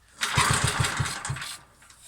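A Staub PPXS6 walk-behind tractor engine that has sat unused for a long time cranks with a quick run of rhythmic chugs, then a brief rough roar that fades away, close by with no talking.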